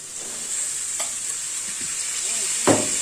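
Boiled green jackfruit going into browned, spiced meat in a pan: a steady close sizzle with a few sharp utensil scrapes and one louder clatter near the end as everything is stirred.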